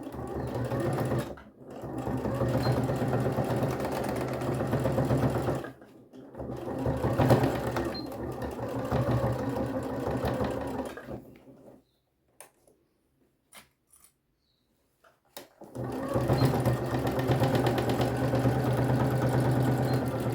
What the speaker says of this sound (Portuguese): E aqui eu vou dar uma costura reforçada